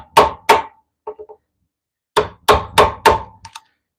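Wood carving by hand with chisel and mallet: two hard knocks, a trio of soft taps, then a quick run of four heavy thunks and a couple of light ticks, close and loud.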